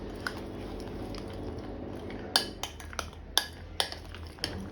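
A spoon stirring cashew pieces into a mango kulfi mixture in a bowl: soft thick mixing sounds broken by several sharp clinks of the spoon against the bowl, close and quiet, with no voices.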